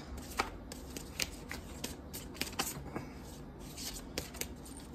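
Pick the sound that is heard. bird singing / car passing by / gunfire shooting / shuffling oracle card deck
shuffling oracle card deck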